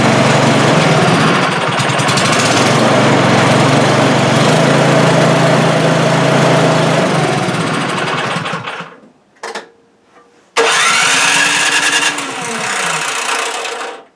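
A snow blower engine runs loud and close with the choke on, a buzzy high-pitched drone that cuts out and sputters around the middle, then roars back to life and keeps running.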